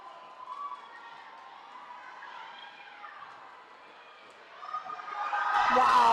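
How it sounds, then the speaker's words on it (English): Roller derby crowd at a rookie Derby Dames bout cheers and roars, swelling loudly toward the end after a quieter stretch of arena noise. "And the crowd goes wild for Villainous Vixen."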